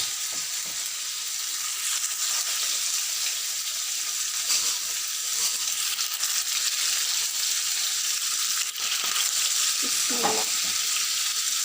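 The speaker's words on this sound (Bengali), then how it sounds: "মাছ ভাজি" Fish fries in a pan with a loud, continuous hiss and crackle of hot oil, a close steady sizzle with a few faint stirring scrapes and no talking.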